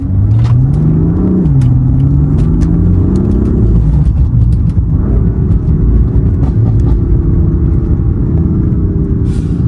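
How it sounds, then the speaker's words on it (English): A 2015 BMW M4 (F82) with a new exhaust rumbles loud and deep close by, heard from outside the car, with a couple of short revs rising in pitch before settling into a steady throaty idle. "the owner wants to hear how the new exhaust sounds from the outside"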